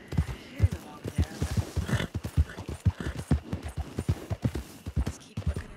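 Horse hooves clip-clop in steady rhythm in the Red Dead multiplayer game RedM, a moderately close, even trot running throughout.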